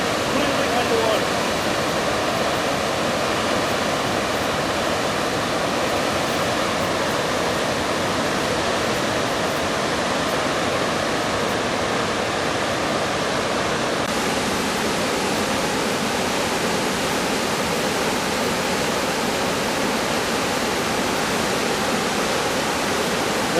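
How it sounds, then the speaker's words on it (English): Floodwater pours over the submerged Diversion Dam at Diversion Lake during the July 2002 flood, a dense, unbroken roar of rushing and splashing water that stays loud and steady throughout. "look at it splashing up to 3/4 of the way up in some places"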